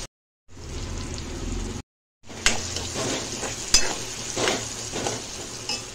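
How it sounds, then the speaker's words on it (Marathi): Tomatoes sizzle and crackle steadily in hot oil in a pan for a Marathi-style okra curry, a dense frying hiss broken by short silent gaps and sharper stirring clatters, close and fairly loud with no talking. "टोमॅटो पण आपण तेलात चांगलं फ्राय करून घेऊया।"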